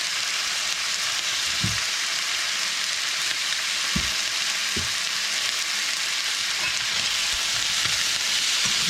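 Ban karela with shrimp frying in a pan: a steady, loud sizzle runs throughout, with a few soft knocks as the mixture is stirred, and no voices.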